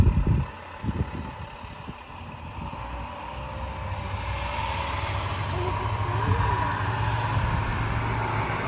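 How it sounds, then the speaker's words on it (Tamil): A school bus drives past on a windy suburban day, its low engine rumble growing steadily louder and more sustained over several seconds, with gusts of wind noise throughout. "என்ன ஸ்கூல் பஸ் வருது"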